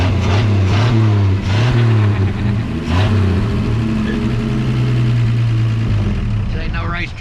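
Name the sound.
1954 Ford F100 truck engine running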